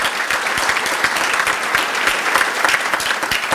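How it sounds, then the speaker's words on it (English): Steady, dense applause from a conference audience, continuous clapping throughout with no pauses and no voices on top. "give a big round of applause to our staff and our volunteers"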